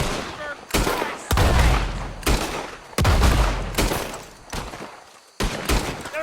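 Heavy gunfire in Red Dead Redemption 2 during a shootout around moonshine huts: repeated loud, close bursts of shots and booming volleys in a rapid, irregular barrage, with brief lulls between.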